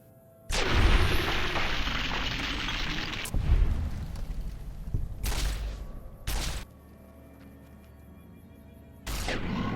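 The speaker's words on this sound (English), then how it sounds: "Luckily, I've got a few spare plasma rounds to put them down." Plasma weapon shots blasting ghouls in Fallout New Vegas, several loud bursts with the first swelling into a long roar, then quieter hits trailing off.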